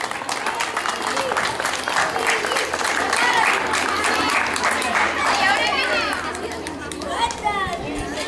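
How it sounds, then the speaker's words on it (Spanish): Applause at a Spanish-language school ceremony where students from a circus program receive keepsakes, sustained and fairly loud, mixed with crowd chatter and children's voices throughout. "Un fuerte aplauso para Emily Carrillo también."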